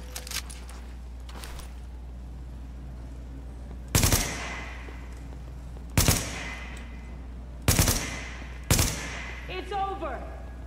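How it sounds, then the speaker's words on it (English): Assault rifle fire in The Division comes in four sharp, separate bursts with gaps between them, heard over a low constant hum and faint background talk. "light them up, but switch over to your assault rifle"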